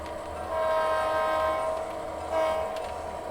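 A model train rumbles steadily along its track with a sustained tonal whistle sounding twice, close and fairly loud, no voices.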